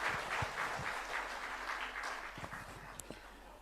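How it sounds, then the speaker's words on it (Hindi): A crowd at a public event on Chhattisgarh's development applauds, a broad patter of clapping that gradually thins out, with a few louder claps and thumps standing out near the end. "तालियों से इनके इस भाव का भी स्वागत करिए"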